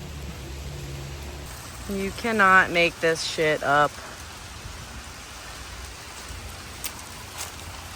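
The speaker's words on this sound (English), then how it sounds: "And now it is pouring." Steady rain hisses across a surface throughout, with someone speaking briefly near the middle over the constant patter.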